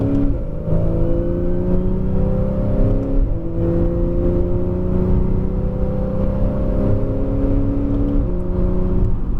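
Porsche 911 Carrera S on the Circuit du Laquais race track, heard from inside the car as the engine climbs steadily through the revs, with a brief dip at each gear change and a continuous loud drone.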